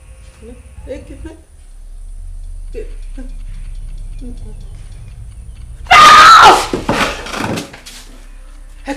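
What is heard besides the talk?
woman screaming aloud from a bad dream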